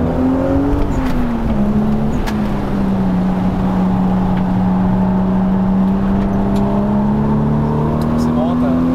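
A Toyota Supra MK4 bi-turbo engine drones steadily from inside the car on a night drive, its pitch sagging slightly and then climbing gradually as the car accelerates, with a constant loud road rumble underneath.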